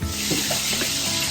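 Wild hog backstrap nuggets rolled in Zatarain's breading fry in hot grease, a close, continuous sizzle and bubbling crackle with no talk.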